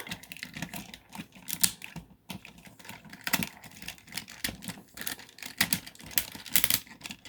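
Rapid clicky ratcheting of small plastic joints on a Transformers Cybertron Optimus Prime toy figure, a dense series of sharp ticks in bursts, close and fairly loud.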